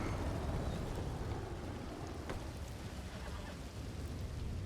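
Steady rain pours outside a building during a thunderstorm in a ranch roleplay video game, a dense even hiss with soft low rumble beneath, continuous and moderately loud, with no voices.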